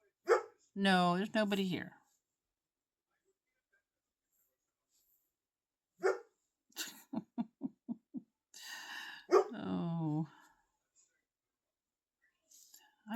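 A Great Pyrenees–poodle mix named Charlie barks in a short run of sharp, close barks indoors, with a person speaking quietly before and after.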